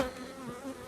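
Honey bees buzz around a hive frame of natural, foundationless comb, a steady close insect drone filling the short moment with no voices.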